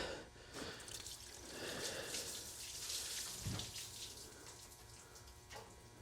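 Coolant drains from a Chevrolet Silverado radiator into a catch pan below, a faint, steady watery trickle and splatter with small drips, fairly distant and low in level, without talking.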